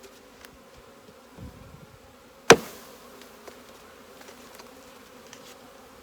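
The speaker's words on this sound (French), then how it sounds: "J'ai beaucoup d'abeilles dans l'entrecouvert, je ne voudrais pas en écraser sur la galette" Honeybees buzz around a beehive inner cover as a faint, steady background hum, broken by one sharp knock partway through and a brief rustle just before it.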